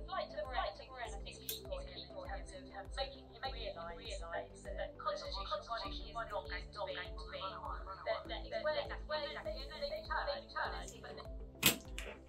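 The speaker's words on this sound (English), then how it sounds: "you can now hear that there is an echo on that signal" Radio audio run through a microcontroller program that adds an echo plays from a speaker, a voice-like signal with repeating smeared reflections, moderately loud, ending with a sharp click.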